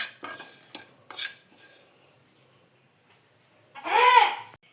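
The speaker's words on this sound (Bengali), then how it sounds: "কড়াইয়ের মধ্যে এই মশলাগুলোকে শুকনো খোলায় ভেজে নেব হালকা করে নাড়াচাড়া করে ভেজে নেব" Fennel, cumin and dried chillies being stirred as they dry-roast in a kadai over a gas flame: scattered scraping strokes early on, a quiet stretch, then one louder, drawn-out scrape near the end.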